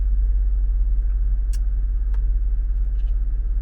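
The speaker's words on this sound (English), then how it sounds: "It's the supercharged V8, so it's got a nice rumble." A 2022 Range Rover Sport SVR's supercharged V8 gives a steady, deep, loud rumble close by, low and continuous with a few faint ticks above it.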